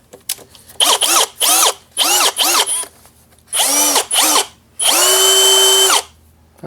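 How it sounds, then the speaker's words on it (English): A power drill whirs in about six short bursts, each spinning up to a high whine and winding down, with brief quiet gaps between them, close by. "Let's try to put it in my drill."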